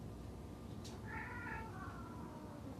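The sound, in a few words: cats fighting and meowing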